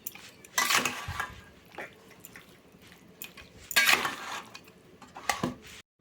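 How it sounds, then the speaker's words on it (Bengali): Chicken being stir-fried in a pan at home, with clattering spatula scrapes and metallic clinks in short bursts over a faint background sizzle, close by. "তো দেখো এখানে আমি চিকেনটা কষাচ্ছি"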